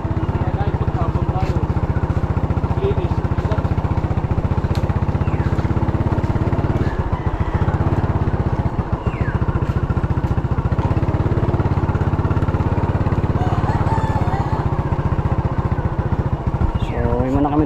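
A motorcycle rides along a muddy farm road, its engine droning loud and steady the whole time with slight shifts in pitch, while voices are faintly mixed in beneath.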